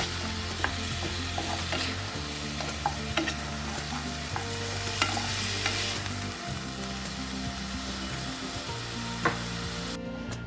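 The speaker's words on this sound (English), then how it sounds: "And give that a good stir." Shrimp with crushed garlic stirred in a hot pan, a constant sizzle punctuated by sharp scraping clicks of a utensil against the pan every second or so, with a low hum beneath and no talking.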